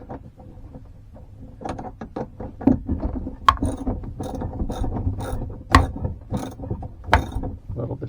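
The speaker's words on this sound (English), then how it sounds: "I can get the socket with the extension on and then attach the ratchet." A ratchet with a socket and extension turns in short, uneven bursts of rapid clicking on a compression fitting, close and fairly loud, with a few sharper metallic ticks between the strokes.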